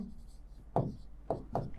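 A pen scratches across paper in three short bursts of handwriting, close and quiet, with pauses between strokes.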